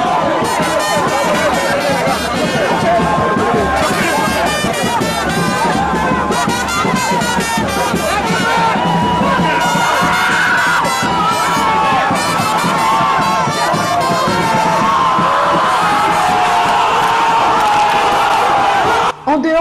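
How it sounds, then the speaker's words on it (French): Supporters singing and cheering as Simone Gbagbo steps out of a vehicle, a loud, dense crowd of voices, chants and shouts sustained throughout with continuous clamour. "elle sort du véhicule sous les chants et acclamations de ses"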